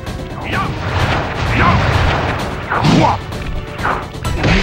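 Loud, booming bursts and crackling blasts in quick succession, video game fireworks from Sly Cooper and the Thievius Raccoonus exploding repeatedly over a dense, noisy background.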